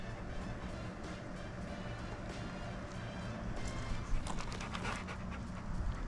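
A dog pants rapidly and steadily up close, quick rhythmic breaths over a low engine-like rumble in the background, inside a 2023 Airstream Basecamp 20X travel trailer.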